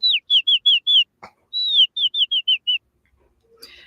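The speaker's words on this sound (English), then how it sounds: "my timer ending sound is birdsong" A timer alert of recorded birdsong plays a bright run of short, clear whistled chirps in two phrases, each opening with a longer descending note, alone against silence before a faint rustle.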